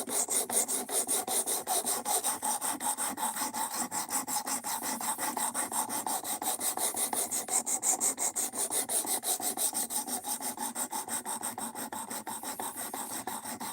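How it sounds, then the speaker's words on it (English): An Ozark Trail axis lock pocket knife is sharpened with quick, even rasping strokes, about four per second, repeated steadily for the whole stretch. The sound is close and no one talks. "So I'm going to sharpen this thing back to where I want it"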